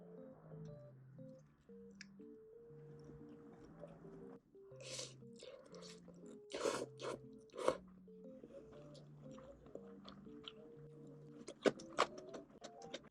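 Crunchy bites and chewing while eating, likely a fried hot-bar style snack with ketchup, heard in bursts of crisp crunches over a background of soft music-like tones, with no talking.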